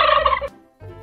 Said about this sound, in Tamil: வான்கோழி.